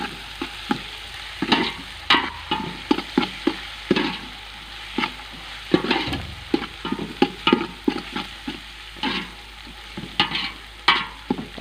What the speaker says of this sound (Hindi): अदरक लहसुन को थोड़ा सा पकाएंगे कि इसका कच्चापन ख़त्म हो जाए।